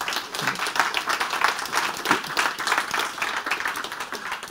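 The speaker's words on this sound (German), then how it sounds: "eben bitte jetzt auch einmal für die 4 klatschen" An audience at a lecture on open educational resources in higher education breaks into steady, fairly close applause, dense clapping holding for several seconds with faint murmurs underneath.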